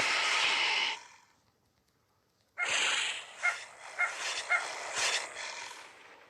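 Dogs in the online game dog online give out sounds as they die, a game-audio burst of yips and whimpering barks that stops short, then returns after a pause as a louder string of short yelps and snorts, with no talk over them.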